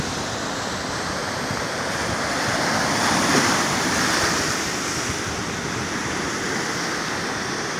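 Continuous loud roar of ocean waves breaking at Ngekul Beach in South Malang, swelling in the middle, with wind buffeting the microphone and no talk.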